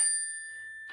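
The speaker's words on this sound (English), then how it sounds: "I'll be ringing a bell at the end of each session, which sounds like this" A single meditation bell struck once at the end of a session, a clear bright ring whose pure tones hang and slowly fade, alone in quiet.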